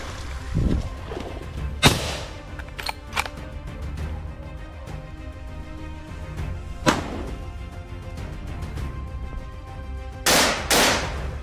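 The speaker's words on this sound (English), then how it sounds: "The hunters, stationed at the hog hunting posts, fire a series of precise shots, cutting down several hogs in seconds." Rifle shots fired from hunting posts during a hog hunt in Texas: several sharp, loud cracks spaced irregularly, ending in a quick pair of blasts, with no talk.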